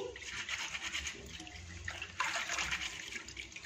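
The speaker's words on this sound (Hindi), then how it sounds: "इसको इस तरह से हाथों में मसल लेंगे।" Boiled black-eyed beans are rubbed by hand in water, giving soft wet squelching and sloshing sounds, close and fairly quiet, with irregular splashes and no speech.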